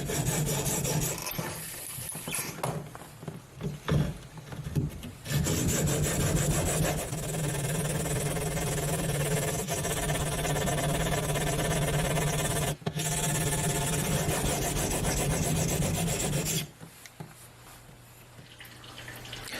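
A blade edge is worked back and forth across a wide 240 grit ceramic sharpening wheel, giving a close, steady grinding rasp that holds for long stretches with brief breaks and drops off near the end.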